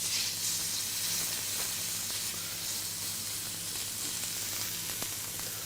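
Fillet steak searing cut side down in a hot pan gives a loud, continuous close hiss that holds evenly without a break.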